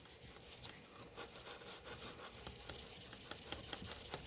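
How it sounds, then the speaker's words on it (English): A metal beskar-style Damascus ingot is rubbed to polish it, giving a soft, faint, rhythmic scraping that repeats in quick back-and-forth strokes with no talk. "just rubbing it on there for a little bit will start to give you a little bit of a shine"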